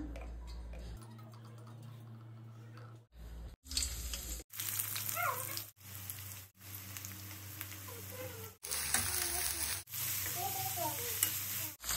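Sliced onions fry in hot oil in a pan, sizzling loudly in bursts broken by short pauses, with spatula stirring and scraping.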